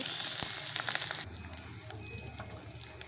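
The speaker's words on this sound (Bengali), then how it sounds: "প্রথমে দিয়ে দেবো বাটা মশলাটা এটা ভাজা হয়ে গেছে" Ground spice paste with garlic paste fries in hot oil in a pan for mung dal with rohu fish roe, giving a steady close hiss and sizzle that drops slightly in strength partway through.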